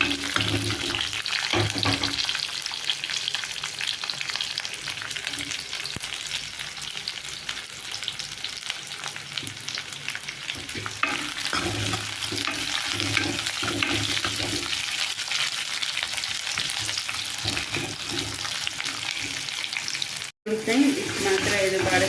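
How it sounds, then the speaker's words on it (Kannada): Garlic sautéing in a hot pan, cooked in a village style, gives a steady broadband sizzle and crackle with occasional stirring scrapes. It stays close and fairly loud throughout, with a brief break near the end. "ಸ್ವಲ್ಪ ಬಾಡಿಸೋಣ."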